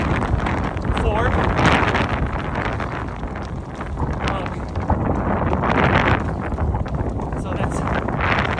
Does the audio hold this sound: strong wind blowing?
yes